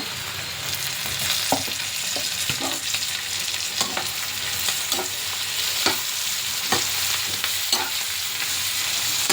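Garlic and green chillies fry in oil in a pan for tomato chutney, a steady sizzle broken by repeated stirring scrapes at an even pace, close and moderately loud.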